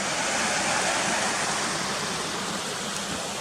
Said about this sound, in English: you can see the waterfall coming into view now better